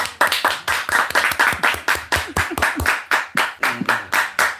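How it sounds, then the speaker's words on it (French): A church congregation claps steadily and loudly for several seconds, a dense run of close, sharp handclaps with almost no voices over them. "On applaudit pour la sœur Marie-France."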